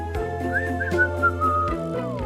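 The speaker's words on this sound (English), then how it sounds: "I whistle a small tune for the bats" A person whistles a short melodic tune to call bats, the clear whistled line gliding between pitches over a sustained instrumental backing in a witches-and-warlocks game.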